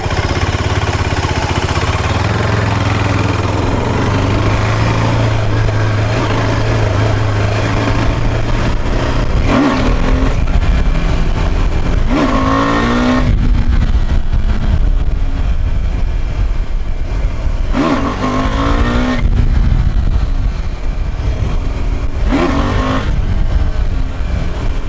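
Engine and exhaust of a KTM Adventure 390 motorcycle while riding: a loud, continuous drone with repeated rev rises and drops through gear changes, heard close up over wind for the whole stretch.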